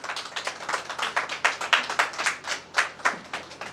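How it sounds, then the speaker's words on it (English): Audience at a school seminar on conceptual learning claps for two women resource persons on stage, a fairly small group producing sparse, distinct hand claps in an uneven rhythm that swell and fade over a few seconds. "round of applause for these 2 strong ladies"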